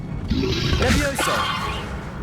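A Levioso levitation spell is cast in the Hogwarts Legacy video game, giving a swirling magical whoosh with sweeping tones over a busy game soundscape, lasting about two seconds.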